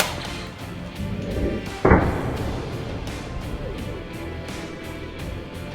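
A Nerf gun fires a dart tied to a tooth, giving a single sharp close thump-pop amid light background noise.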